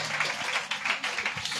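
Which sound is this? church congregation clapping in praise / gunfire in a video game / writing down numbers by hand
church congregation clapping in praise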